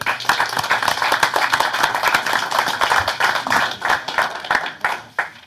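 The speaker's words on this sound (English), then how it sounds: "one more round of applause" A round of applause fills a city council meeting in Riverdale, Utah, with many hands clapping steadily and fairly loudly for about five seconds before it starts to thin out at the end.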